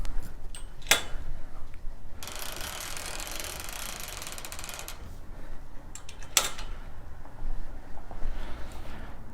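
A quilt being rolled on a quilting frame gives a run of ratcheting mechanical clicks, with sharp bursts of rustle and scraping in between, close and fairly loud.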